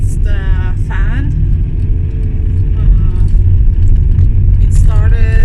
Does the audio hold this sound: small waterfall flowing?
no